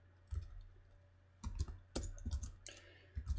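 Computer keyboard typing a script tag, a few faint clustered key clicks in short bursts with gaps between, close and quiet.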